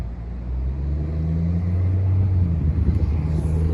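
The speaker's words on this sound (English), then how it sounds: "There's one of the OG diesel buses built by Orion." An Orion diesel bus rumbles past on Bloor Street West in Etobicoke, Toronto, its steady low engine drone swelling slightly as it nears, heard alone without talk.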